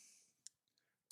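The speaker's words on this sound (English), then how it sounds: "press your numlock key" A keyboard's numlock key being pressed, a few tiny isolated clicks in near silence, the last pair sharper and louder at close range.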